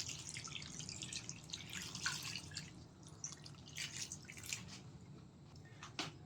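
Water is poured onto salted edamame in a bowl for washing, a soft close trickle with drips and faint splashes.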